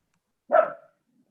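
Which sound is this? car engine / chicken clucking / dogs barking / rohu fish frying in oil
dogs barking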